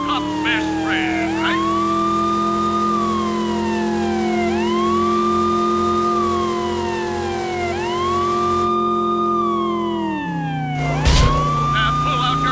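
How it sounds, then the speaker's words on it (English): A police car siren in the PS2 video game True Crime: New York City wails in repeated rising-and-falling sweeps over a steady engine hum, then cuts off, followed by a brief sharp noise. "Next, let's hear your siren."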